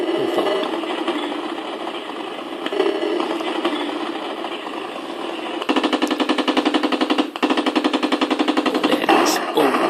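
Gunfire in an Amiga tank war video game, a dense stream of electronic machine-gun bursts that becomes a fast, loud, regular rattle partway through, over a continuous droning game soundtrack.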